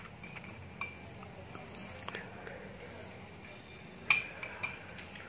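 A metal spoon clinks against a container as a spoonful of yeast is added while making homemade 75% alcohol hand sanitizer. The faint, sparse, light taps sit in a quiet room, with the sharpest clink near the end.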